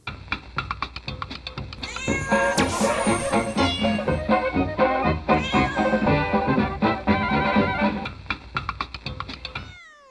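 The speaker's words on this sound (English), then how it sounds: "Cat. Meow." A cat meows repeatedly, loud and close, with drawn-out yowling cries over a busy, dense backdrop.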